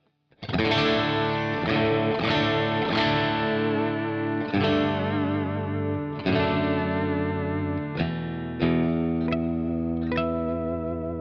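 An electric guitar strums ringing chords drenched in a wavering chorus shimmer, each strum sustaining before the next, loud and close with no voices.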